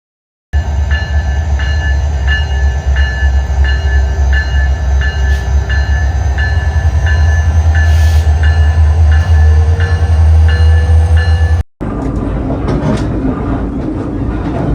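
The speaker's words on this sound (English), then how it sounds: "getting ready to ride the train all the way down to Seward" An Alaska passenger train running from Girdwood to Seward rumbles loudly and steadily, with a regular clickety-clack of wheels on rail joints, heard from inside the car. The sound cuts briefly and resumes near the end.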